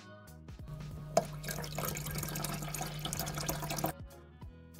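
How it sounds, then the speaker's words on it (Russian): Filtered water pours steadily into the rear reservoir of a Krups Roma Black coffee machine, a continuous close trickle lasting a few seconds with no talk. "Сзади кофемашины есть вот такой резервуар под воду. Я сейчас его как раз долью."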